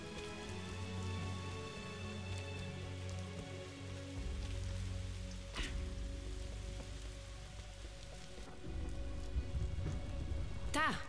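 In-game rain pattering down in Lara Croft and the Temple of Osiris, a steady low wash of falling water under game music tones, with a few sharp impact clicks scattered through, fairly quiet overall.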